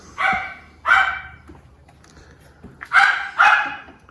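A dog barks four times in two pairs, sharp and close, with a brief quiet gap between the pairs and faint background noise.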